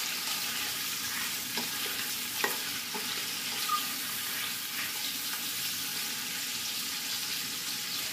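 Chopped cabbage in large chunks frying with sausages in a pan, a steady dense sizzle with occasional stirring clicks and scrapes, close and even throughout, no voices.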